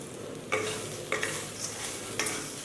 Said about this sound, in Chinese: 撒上椒盐，翻炒均匀。